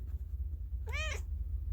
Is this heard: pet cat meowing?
yes